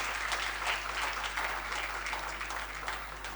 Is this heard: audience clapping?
yes